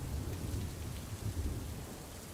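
Thunder and rain as a sound effect in a theatre play: a steady wash of rainfall with low rolling rumbles of thunder underneath, heard alone at a moderate level.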